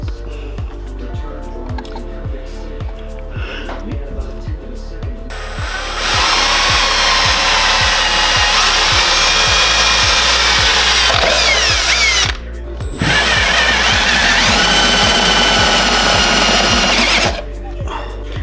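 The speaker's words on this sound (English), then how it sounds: "I drilled a hole in the frame rail and then put a rib nut in there." A power drill bores a hole in the frame rail of a 2006 Honda S2000. First come a run of rapid clicks, then two long, loud, steady whining drill bursts with a short pause between them. No one talks.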